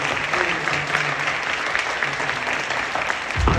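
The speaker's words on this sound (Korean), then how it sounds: "수고한 모든 분들에게 또 기대하며 격려하며 박수 한번 해주시죠" Congregation applauding during a Friday night prayer meeting at a church, sustained even clapping throughout, moderately loud and close, ending with a brief bump of noise.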